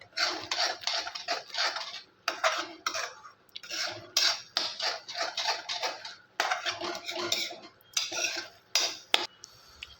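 A spoon scrapes and clinks against a pan while masala spices are stirred together, making repeated close, rhythmic bursts of scraping with brief pauses between strokes.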